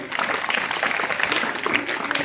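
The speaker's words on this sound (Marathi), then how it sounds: "त्यांच्यासाठी जोरदार टाळ्या होऊन जाऊ दे" Students and villagers gathered at a village event burst into loud, dense applause, a sustained wash of many hands clapping together with faint crowd noise underneath.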